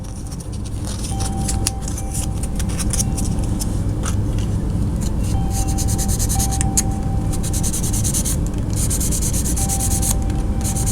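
Steady dry rubbing of sandpaper over a flat popsicle stick against the plastic body of a 1981 Hot Wheels Rapid Transit school bus toy, a continuous close scratchy hiss with no talking.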